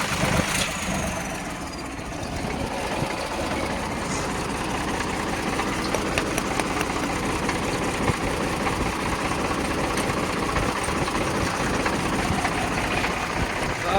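A Mahindra 295 Super Turbo tractor engine idles steadily and fairly close, a continuous even rumble with a dense chugging texture that holds without change throughout.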